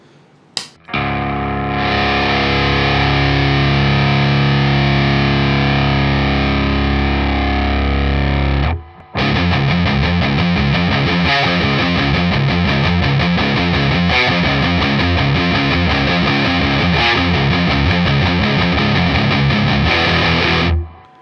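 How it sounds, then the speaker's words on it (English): An electric guitar played through a Sonicake Rude Mouse or RAT 2 distortion pedal with the gain high: a long sustained fuzzy chord, a brief cut, then a dense, rhythmic distorted riff, loud and alone. "usually with Rat style pedals, if you get the distortion up past halfway, we start to get sort of fuzziness"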